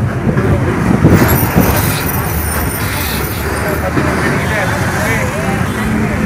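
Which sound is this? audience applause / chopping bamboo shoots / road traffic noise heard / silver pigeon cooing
road traffic noise heard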